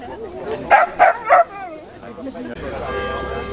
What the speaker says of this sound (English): being guarded by a little Dachshund down there